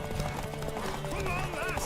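Horse hooves clip-clop in a fast gallop during a race in The Witcher 3, rhythmic thuds close by with a whinny and tonal game sounds layered over them.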